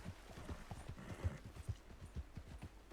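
Horse hooves clip-clop in a steady walking rhythm in the Red Dead Redemption 2 video game. The footfalls are close and moderately loud, with no voices over them.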